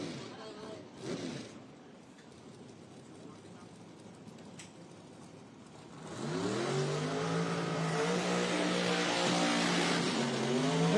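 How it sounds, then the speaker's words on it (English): Dragster burnouts at a drag racing starting line: after a quieter stretch with a distant roar, a loud sustained engine howl rises and holds steady, with an announcer speaking over the track. "There's the burnouts coming up across the line."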